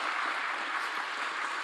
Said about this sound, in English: that's a lot of clapping and a lot of echo